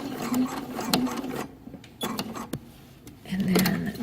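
Sewing machine top stitching a quarter-inch seam on a shirt, a close buzzing run of needle strokes that pauses briefly midway and starts up again.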